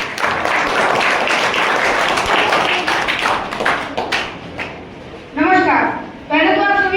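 School audience at a Mother's Day poem recitation competition applauding to welcome a student, several seconds of dense clapping that thins out before a voice begins speaking.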